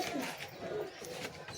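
Flying pigeons coo softly in a loft, a low burbling call under a noisy, breathy background, fairly faint and close.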